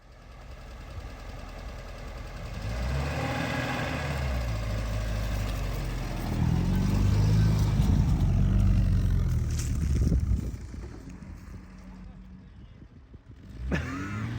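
A car engine rumbles nearby, idling and then revving up louder in the middle before easing off, with voices talking over it.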